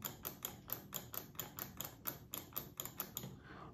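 An ordinary grey computer mouse is clicked over and over in a quick, even rhythm, each crisp click close up but fairly quiet, with no voices.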